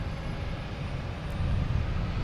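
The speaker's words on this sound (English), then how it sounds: "Another JetBlue coming in." A JetBlue airliner approaches to land at Logan Airport, a faint, distant, low jet rumble that swells slightly toward the end.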